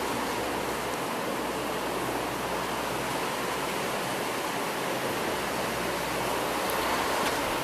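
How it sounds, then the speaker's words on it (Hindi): Heavy rain falls outside as a dense, steady hiss that fills the whole stretch without a break, loud and continuous, with no talking over it. "बाहर बारिश हो रही है तो आवाज़ आपको थोड़ा सा बारिश का आएगा"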